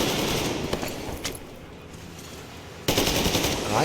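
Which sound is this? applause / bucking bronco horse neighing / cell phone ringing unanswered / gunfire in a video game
gunfire in a video game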